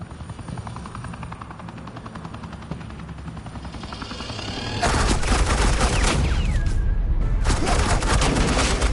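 Sustained gunfire in a firefight in Batman: The Enemy Within, loud and continuous, layered over a helicopter-like drone. A steady rumble fills the first half, then a denser burst of shots and chopper noise takes over.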